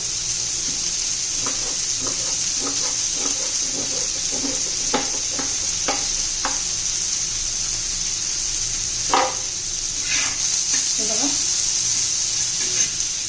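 Chopped onion frying in a pan until just transparent, a constant soft sizzle with scattered stirring scrapes and clicks; nobody talks.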